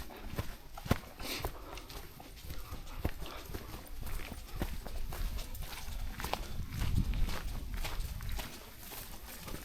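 Quick footsteps scramble uphill on a day hike toward Suna Alps, a steady patter of scuffing steps over a constant outdoor rumble, with no voices.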